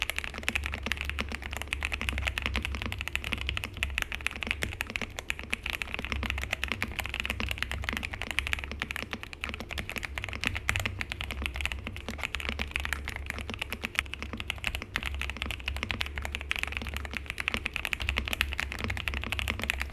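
Steady, continuous typing on a MechLands Feker K75 mechanical keyboard with Gateron switches and thick-walled keycaps, dense overlapping keystrokes with a muted, thocky character, close to the listener with no voices.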